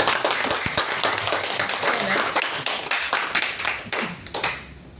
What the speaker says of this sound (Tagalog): Kapag mahina po ang ating mga palakpak.